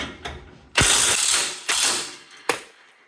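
A ratchet works loose a sway bar link bolt on a Toyota Tundra, giving loud, close bursts of rapid clicking in three strokes, the first long, with no talk.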